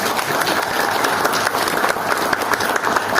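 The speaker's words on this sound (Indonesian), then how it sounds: "Tepuk tangan tidak cukup" A crowd at a company iftar gathering claps in steady, busy applause, fairly close and continuous, with faint murmurs mixed in.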